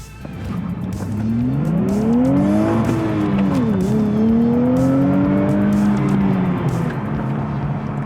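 A powerful rear-wheel-drive sports car engine accelerates through rising revs, dips briefly at a gear shift, then pulls hard again with a whistling turbo, loud and close.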